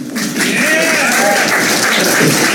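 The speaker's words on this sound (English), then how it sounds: "Give yourself a round of applause." Loud crowd applause at a live comedy showcase, a dense, close wash of clapping with cheering voices mixed in, continuous for a couple of seconds.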